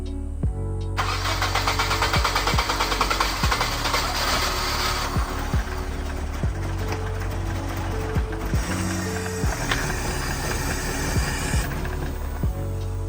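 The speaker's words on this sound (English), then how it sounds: "prime your car up and start it" A Nissan S14's starter cranks in a long, rapid mechanical ratchet with repeated sharp clicks and a steady low hum, heard up close after a gas tank swap.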